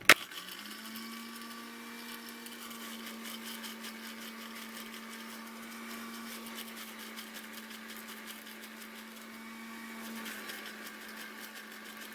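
A blender whirs steadily as it grinds okra seeds, a continuous, fairly quiet motor hum that holds the same pitch from start to finish, with no voices.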